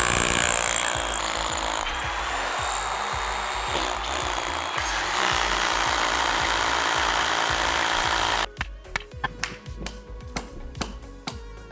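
A power drill whines and grinds steadily into wood, loud and close, then stops, leaving a series of sharp knocks and taps.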